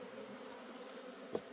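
Honeybees hum steadily around an opened hive in a Madison/Brown County apiary, a continuous close drone with one brief louder buzz as a bee passes near.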